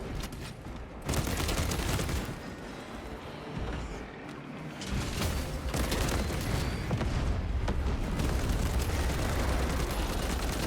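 Heavy blasts and rolling gunfire tear through a Tyranid swarm in the Space Marine game, with a brief dip near the start before the dense, loud barrage resumes and holds steady to the end.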